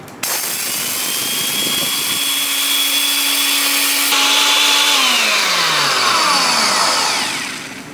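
A household flour grinding machine, locked shut and loaded with up to a kilogram of grain, starts with a sharp click and runs as a loud, steady high-pitched motor whine, then spins down near the end.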